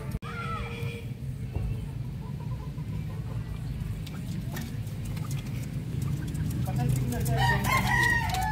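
Chickens and roosters at a breeding farm in the Philippines, with crowing and clucking rising near the end over a steady, fairly loud background rumble.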